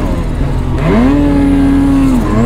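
Close and loud, a snow bike engine revs up on a powder day, its pitch sweeping sharply upward into a sustained whine and then dropping away at the end.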